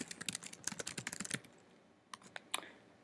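Typing an address on a computer keyboard: a rapid, close run of key clicks for about a second and a half, then a pause and a few scattered keystrokes, with no talk.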